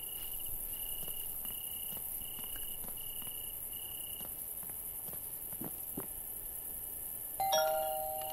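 A doorbell chime rings out near the end of a stretch of quiet night ambience in the VR game Thief Simulator VR, with steady insect-like chirping and faint soft footsteps underneath before it.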